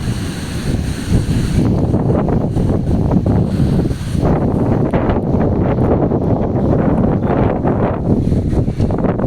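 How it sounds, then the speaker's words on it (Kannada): Strong wind during a thunderstorm over farm fields roars steadily against the microphone, a constant heavy rumble and hiss with no voices. "ಗಾಳಿನೂ ಜೋರೈತಿ"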